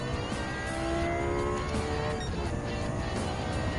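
Lexus LFA supercar racing in Gran Turismo 7, a continuous high engine note held at speed with shifting pitch and faint tire noise, loud and steady throughout with no talking.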